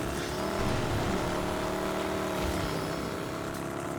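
Motorcycle engine in the video game Rage 2, a steady droning hum with harmonic tones held throughout while riding, loud and continuous with no talk over it.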